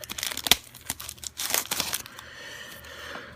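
Plastic wrapping on a pack of baseball cards crinkles and tears at close range in irregular bursts, loudest early on, then fades to softer rustling.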